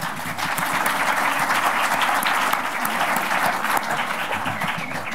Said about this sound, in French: Valérie Mosidlars que je vous demande d'applaudir.